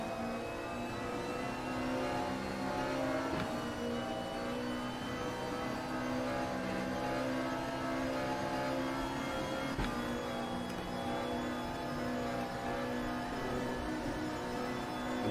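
A car engine in a racing video game holds steady, droning close behind a Porsche at a constant, continuous level with a high whine on top and no talk.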